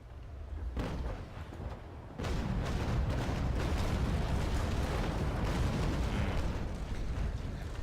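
Cannon broadsides from sailing warships in the naval combat game Naval Action, a heavy rolling roar of many overlapping booms that swells after a brief lull and sustains loudly, with no talk.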